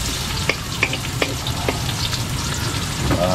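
Chopped onion sautéing in a pan: a steady close sizzle with occasional stirring scrapes and soft clicks, no voices.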